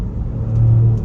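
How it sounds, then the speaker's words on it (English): Turbocharged V6 of a Mercedes-AMG GLE 43 SUV, a steady low rumble that swells slightly mid-way, heard close from inside while driving; no crackles stand out. "This V6 actually does sound really good."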